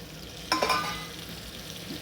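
Green chillies sauté in a pan for paneer biryani, giving a brief close sizzle with a quick stirring clatter midway, and nobody speaks.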